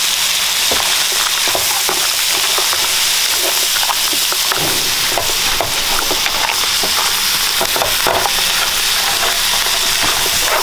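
King crab fried rice with scallion sizzling and frying loudly in a pan, a constant bright hiss broken by scraping stir strokes, with no talking.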